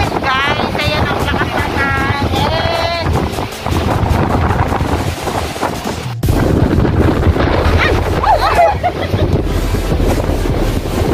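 Strong Hong Kong typhoon wind under signal 8 roars steadily against the microphone outdoors, a loud continuous buffeting gust noise with a person talking over it.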